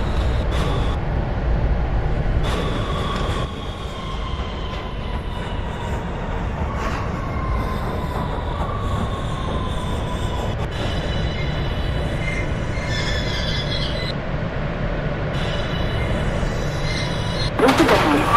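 A Manhattan-bound NYC subway L train, a Siemens R143 car type in service since 2001, runs in the Openbve train simulator. It gives a steady loud rumble with rising and falling motor whine, and a brief wheel squeal near the end.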